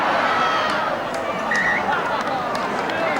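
Crowd noise at a 1982 rugby league match between Wests and Cronulla: a steady wash of applause and cheering from a large stadium crowd, continuous and fairly loud throughout, with no voices standing out.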